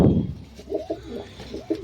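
Pigeons in a loft give soft, low coos in a short series of rhythmic pulses, close and fairly quiet, after a brief rustling thump at the start.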